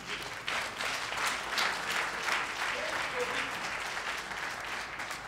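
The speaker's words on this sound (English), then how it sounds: "A round of applause for him again" An audience gives a speaker a sustained round of applause at an evening event, a dense even wash of many hands clapping at a moderate distance, holding steady throughout.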